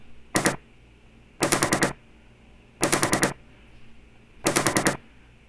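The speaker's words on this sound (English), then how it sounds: "Four or five shots, right?" Recorded gunfire from the Las Vegas shooting plays back as four separate bursts of rapid automatic shots, each a tight cluster of sharp cracks followed by a short pause, loud and with no voices.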